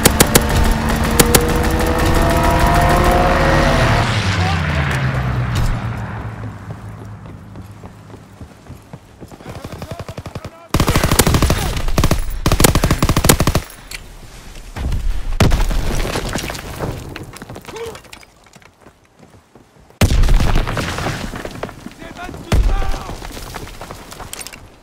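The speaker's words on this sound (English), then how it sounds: "Fighter pilot inbound, strafing the target." A fighter plane makes a strafing run in the Call of Duty WWII video game. Loud bursts of engine roar and heavy booming impacts come in several chaotic waves, separated by brief quieter gaps.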